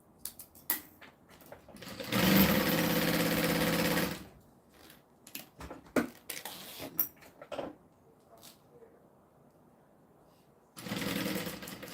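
A sewing machine stitches a zipper down in two loud, steady bursts, one of about two seconds and a shorter one at the end, separated by quieter handling clicks and rustles.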